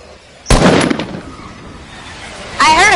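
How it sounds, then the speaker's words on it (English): A single sharp gunshot rings out in a PS4 video game, a loud sudden crack with a short decaying tail, followed by quieter game ambience and a warbling electronic tone near the end. "I heard a gunshot."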